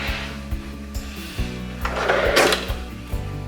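Drawer of a nightstand in a hotel room sliding open or shut, a wooden rubbing slide with a few soft knocks, close and moderately loud over a steady room hum.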